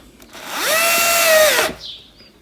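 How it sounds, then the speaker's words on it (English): A power drill spins up and drives screws through the neck plate of a Harley Benton ST-style electric guitar kit, one steady close whine of about a second before winding down. "screw these screws through the neck plate and attach it"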